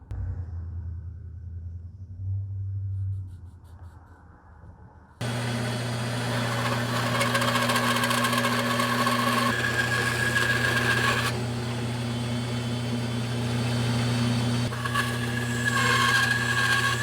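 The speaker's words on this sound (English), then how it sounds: "custom shape that on the bandsaw" A bandsaw shapes a small poplar wedge: after a low rumble, the saw starts abruptly and runs at steady loudness with a constant hum, the cutting tone shifting as the wood is fed through, and no talking.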